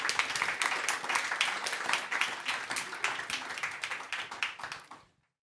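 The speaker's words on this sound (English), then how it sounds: "again, a round of applause" An audience at a talk on psychedelic experiences gives a round of applause, dense quick clapping at even strength for about five seconds that then fades out and stops.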